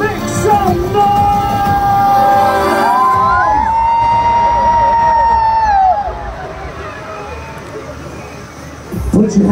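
A large crowd at a Pokémon drone show at Marina Bay cheers loudly, with long rising whoops and shouts over a roaring mass of voices that swells and then fades, before a few voices break out again at the end.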